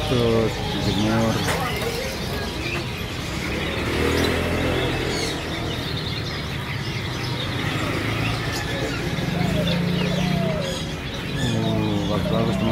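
Zebra doves (perkutut) coo at an Indonesian bird market, their soft calls mixed with chirps from other caged birds. Steady crowd chatter and distant traffic continue throughout.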